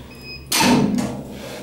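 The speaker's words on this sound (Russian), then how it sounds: "Дверь закрываем за собой." An apartment building entrance door swings shut with one loud, close thud and a brief rattling tail, after quiet stairwell ambience.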